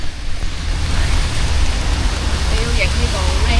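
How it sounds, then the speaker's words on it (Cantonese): Rain falls at Lake Towada in Japan on a late-October day, a loud, even wash of noise filling the whole stretch with faint tonal traces near the end and no clear speech. "又落雨啦。"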